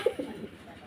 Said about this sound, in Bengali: এই হলো কবুতর